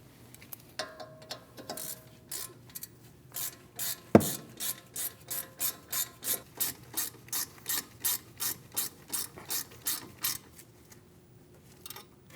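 A ratchet clicks in quick, regular bursts, close and clear, tightening the brake caliper bolts on a 2010-2015 BMW X1 xDrive, with a sharp knock partway before the steady cranking strokes build up.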